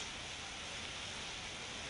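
Steady rain pouring down in Vapi, a dense, even hiss holding at the same level from start to end with no voices.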